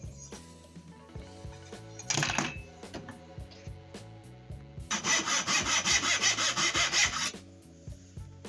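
A hand saw cuts wood into 2-inch pieces for a steamer kit diorama build, with a short burst of strokes followed by a longer run of rapid, rhythmic rasping back-and-forth cuts, close and clear.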